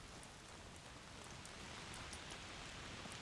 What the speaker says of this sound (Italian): Piove a dirotto, quindi andiamo di là.